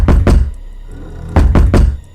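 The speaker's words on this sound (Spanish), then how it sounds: "Tocó la puerta con fuerza." Forceful knocks on an apartment door land in two heavy pairs, a double thud, a pause of about a second, then another loud double thud, close and with no voices.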